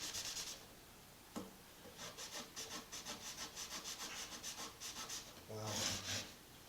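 Hand sanding on a classical guitar being refurbished, with steady back-and-forth abrasive strokes in a regular rhythm, close and fairly quiet, with a heavier burst of rubbing near the end.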